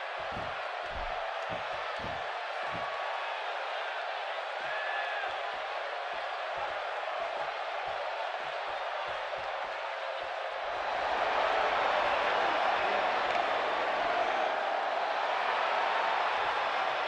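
A wrestling arena crowd roars and cheers in a large hall, a dense continuous din that swells louder partway through, with thudding slams early on and commentators talking over it.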